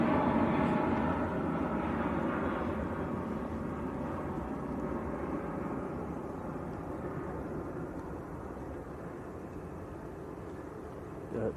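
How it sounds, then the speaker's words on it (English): Heavy jets, an Aer Lingus and a Qatar, taxi at Manchester Airport with a continuous broad engine rumble and whine at moderate distance that eases slightly over time and has no talk. "Two Heavies taxiing out at the moment. The Aer Lingus and the Qatar both on the move."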